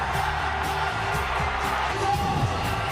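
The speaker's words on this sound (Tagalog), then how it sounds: "And listen to this crowd roar." A basketball arena crowd roars after a dunk at a PBA Philippine Cup semifinal between San Miguel and Barangay Ginebra, a steady loud wall of cheering and whooping that holds throughout.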